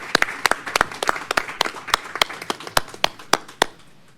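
A small gathering at a board meeting claps for a departing staff member, with a sparse, loosely timed run of distinct hand claps that thins out toward the end.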